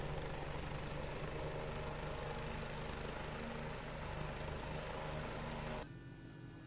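A Bell 429 helicopter in X-Plane 11 sits on a small airfield helipad after landing, its engine running in a loud, steady whine and rotor thrum that drops off sharply near the end as it begins spooling down.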